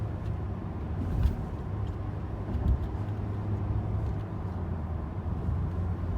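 A 2020 compact sedan engine holds a steady, low rumble, heard from inside the cabin as it lingers at high revs while accelerating, constant throughout with no talking.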